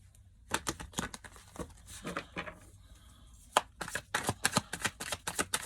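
Quick bursts of tarot cards riffling and snapping together, several short shuffles in a row with brief pauses, close up and fairly crisp.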